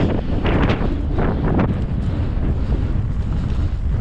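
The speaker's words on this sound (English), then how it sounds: "Oh, it's windy up here." Steady, loud wind buffeting the microphone at the top of a wooded bike trail, a continuous low rumble with gusty swells throughout and no talking.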